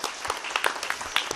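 Conference audience applause, a short burst of scattered hand claps at moderate distance.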